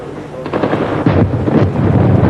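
Artillery, tank, mortar and machine gun fire during a nighttime Israeli troop advance: several heavy booming blasts and rumbling bursts land in quick succession, loud and close, without voices.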